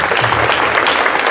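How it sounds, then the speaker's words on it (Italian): An audience applauds at a short-film competition award ceremony, a loud, steady wash of many hands clapping that fills the whole short stretch. "E vi ringrazio, un applauso"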